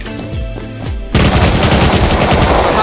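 Automatic gunfire in the survival game Rust, a rapid burst of loud shots that jumps to a dense, continuous rattle after about a second, close and dominant.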